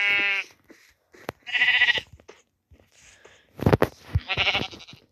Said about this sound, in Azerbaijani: Orada bir tane koyun var.